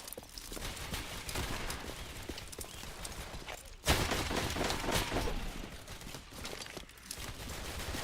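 Gunfire in a Roblox game crackles as rapid bursts of shots, with a sharp loud volley midway followed by continued scattered firing over a busy game soundtrack, no voices.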